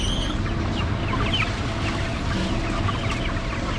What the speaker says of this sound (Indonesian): di sini ada ayam kampung